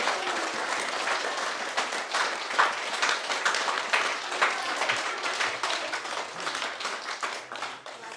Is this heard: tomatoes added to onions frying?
no